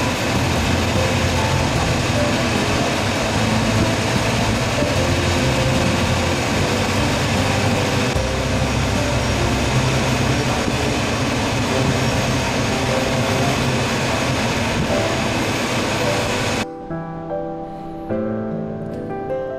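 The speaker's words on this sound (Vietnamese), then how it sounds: "Nghe nước chảy ào ào ở phía dưới." Water rushing loudly below a roughly 60 m high lookout over the Nam Ban, Lâm Hà area near Da Lat, a dense, steady roar that holds for about 17 seconds before cutting to a quieter, different sound.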